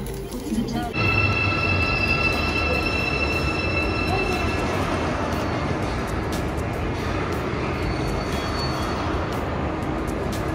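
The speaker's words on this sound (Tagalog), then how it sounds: "This is the train." A train at a station in Korea, a steady loud rumble of wheels and carriages with high squealing tones near the start, continuous throughout, with some talk in the background.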